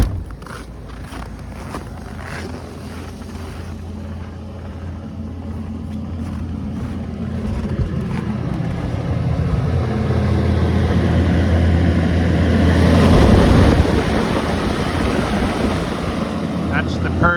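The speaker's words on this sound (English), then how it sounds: "That's the purge fan." A purge fan runs with a steady low drone and broad airy rush that builds gradually in loudness, swelling to a peak near the end before easing slightly, continuous and close with no talking.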